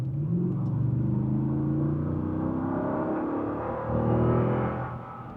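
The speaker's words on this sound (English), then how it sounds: "Very consistent power, nice V8 rumble" A Lexus GX460 Premium Plus with its V8 floored at full throttle, giving a steady, loud engine rumble whose pitch climbs smoothly through the revs, close and continuous with no talk.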